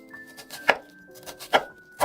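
Three crisp knife chops cut through an onion on a board, evenly spaced and close, with a faint hum underneath.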